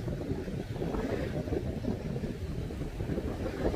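Windy seaside with rough waves near the end of autumn: a continuous broadband rumble of wind buffeting the microphone and surf washing, steady and fairly loud with no voices.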